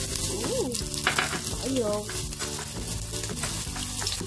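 Chopped shallots sizzle in cooking oil in a pot for chicken cooked with pâté, a steady loud frying hiss throughout with a few stirring scrapes and brief background voice.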